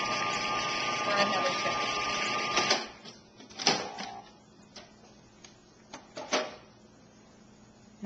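Electric mixer blending challah dough in a bowl, a loud steady mechanical whir for about three seconds that stops, followed by clicks and knocks, with someone speaking briefly.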